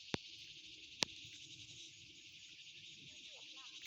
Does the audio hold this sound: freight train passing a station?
no